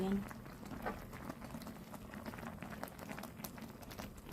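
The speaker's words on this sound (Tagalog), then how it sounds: "Hayaan lang natin kumulo yan." A pot of Korean tteokbokki with onion simmers and boils on the stove. Faint, steady bubbling and soft crackle sit under a low, quiet voice throughout.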